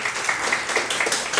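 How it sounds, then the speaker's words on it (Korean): A church congregation applauds, a soft, fairly distant scattering of many hands clapping at an uneven rhythm through the short stretch. "네, 박수 한번 해주시고요."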